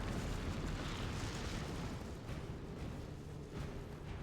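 Fire magic sets off explosive powder in the Dragon Age Inquisition Trespasser game, a loud, dense blast whose rumbling roar fills the whole stretch without letting up.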